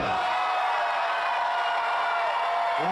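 A wedding reception crowd cheers and shouts loudly in a large hall, a dense, sustained roar of many voices that carries on for the whole moment without a break.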